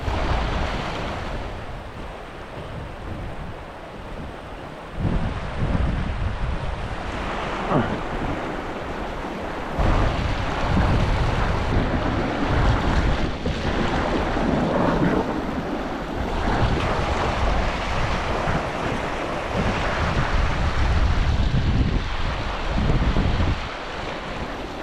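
A river's water swirls and pushes back on itself in a steady, loud, broadband rush, with heavy wind buffeting the microphone throughout and no voices.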